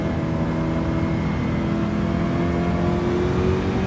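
Steady engine drone of a 1988 Nissan Silvia S13 with a swapped engine under throttle in a driving game, held at a constant, even pitch with a slight rise, loud and close throughout, with no other sounds.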